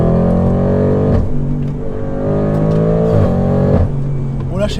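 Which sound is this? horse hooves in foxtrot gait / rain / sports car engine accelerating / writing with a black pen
sports car engine accelerating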